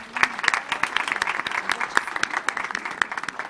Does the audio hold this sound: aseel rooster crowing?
no